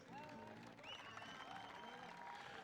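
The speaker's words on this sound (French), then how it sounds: "On peut les applaudir bien fort, l'équipe de France" Stadium crowd applauding and cheering the French blind football team at a Grand Prix match against England, a dense, continuous roar with whistles and voices rising over it.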